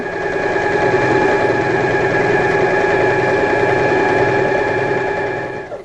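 A sewing machine with a ruffling presser foot stitches a frilled pillow, running in one steady, close, continuous hum and rattle that stops at the end.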